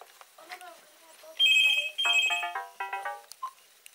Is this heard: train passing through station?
no